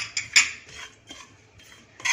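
A spoon stirring mint, coriander and dry ginger powders in a hot pan, producing a few light metallic scrapes and clinks spaced unevenly over quiet background, without talk.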